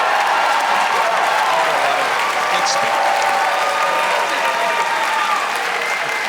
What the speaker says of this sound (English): give a big round of applause and all your love for Mr. Wilfred Padua.